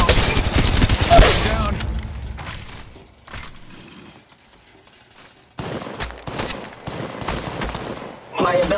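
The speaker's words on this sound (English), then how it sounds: "Getting shot at." Gunfire in the mobile battle royale game Apex Legends Mobile, with a dense loud burst of shots at the start, then scattered sharp reports and clatter after a quieter stretch, mixed with game sounds.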